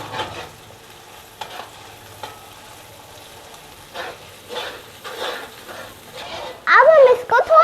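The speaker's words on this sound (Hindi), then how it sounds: "अब हम इसको थोड़ा सा भून लेंगे।" Onions frying and being stirred in a pan with ginger-garlic paste for chicken Kabuli biryani give a steady close sizzle with scraping stir strokes, and a louder burst of stirring comes near the end.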